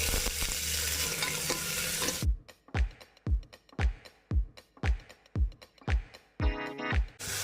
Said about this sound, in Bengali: আমি সর্ষের তেল দিলাম আর গোটা গরম মশলা দিয়েছি শুকনো লঙ্কা পেঁয়াজ